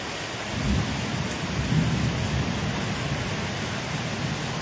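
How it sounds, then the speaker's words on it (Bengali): A thunderstorm in the Sundarbans brings steady rain, with a deep rolling rumble of thunder swelling near the start and continuing under the constant wash of falling water. "আর তার সঙ্গে সঙ্গে মেঘ ডাকা"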